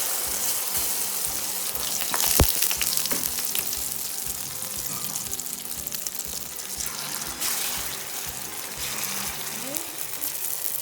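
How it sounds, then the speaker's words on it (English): An egg mixture fries in hot oil in a pot, giving a steady, close sizzle and crackle with a brief sharp knock partway through. "So I'm going to let it fry like this."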